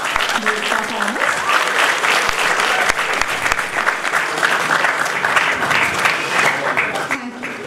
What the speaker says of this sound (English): please give a warm round of applause to the performers